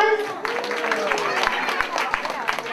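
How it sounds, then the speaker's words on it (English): A crowd at a church feast event in Chicago applauds second-grade performers: brisk clapping and murmuring voices blend with a lingering tone in the background. "Can we give them a round of applause?"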